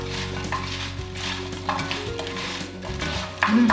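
Potato wedges tossed with olive oil and smoked paprika in a bowl, a continuous moist rustling and sloshing of coated pieces turning over, with a light clink near the end and no speech.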